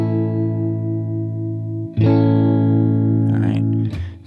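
A sustained electric guitar A bar chord rings out, then is strummed again about halfway through with a heavy effected tone, followed by a couple of muted scratchy strums.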